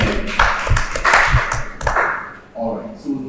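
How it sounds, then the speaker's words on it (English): An audience gives a round of applause at a green finance and investment training session in Kano, a short burst of scattered claps with some voices mixed in. "All right, a round of applause for our guy."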